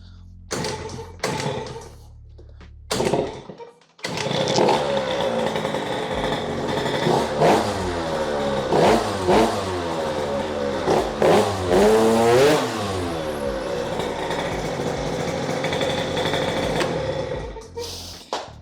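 A scooter engine fitted with a Malossi kit cranks over a few times, catches and starts, then revs repeatedly in loud rising and falling bursts before settling near the end.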